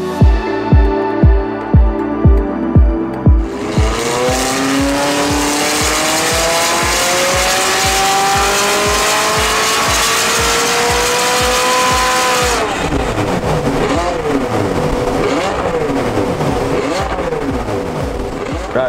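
A McLaren 570S fitted with a full titanium exhaust runs on a dyno, starting with a few rhythmic revs before a loud, sustained full-power pull climbs steadily in pitch, then drops off into a crackling, burbling overrun.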